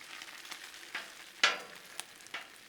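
Bacon sizzles on a Blackstone griddle, a quiet steady frying hiss broken by a few sharp crackles and pops, with no voices.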